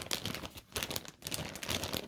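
Plastic packaging around a dark grey Amazon Basics king comforter set crinkles as it is cut open, in loud irregular bursts of rustling with short pauses between them, close up and with no voices.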